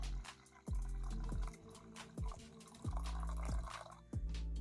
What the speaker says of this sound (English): then I will mix the boiling water with this one